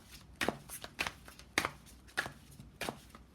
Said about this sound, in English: So I'm going to shuffle the card.